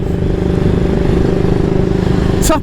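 A 1938 AJS Model 22 250cc motorcycle engine thrums loud and close in a steady low chug, with a sharp click near the end.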